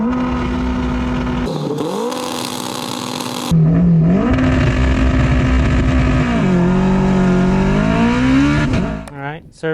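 An all-wheel-drive Honda car with nitrous launches on anti-lag at 8000 RPM, the engine screaming at a sustained high pitch, dropping and climbing again through gear changes, very loud and close, with crackling bursts near the end.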